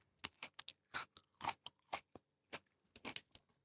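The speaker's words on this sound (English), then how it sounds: "let me crunch one into the microphone" A small snack is crunched right up against a microphone in a series of quick, crisp bites and chews, close but quiet, with no talking.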